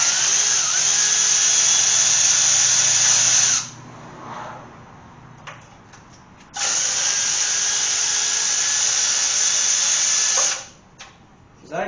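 Power tool whirring in two long, steady bursts, loosening the end bolts first on a faux Hemi engine being prepped for installation, with brief quiet and light clicks between runs; close and loud, no talk.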